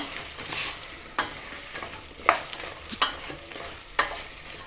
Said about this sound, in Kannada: ಇದರಲ್ಲಿ ನುಗ್ಗೆಕಾಯಿ ಸ್ವಲ್ಪ ಲೇಟಾಗಿ ಬೇಯುತ್ತಲ್ಲ, ಹಾಗಾಗಿ ಇದರಲ್ಲೇ ಸ್ವಲ್ಪ ಎಣ್ಣೆಯಲ್ಲೇ ಚೆನ್ನಾಗಿ ಬೇಯಿಸ್ಕೋಬೇಕಾಗತ್ತೆ.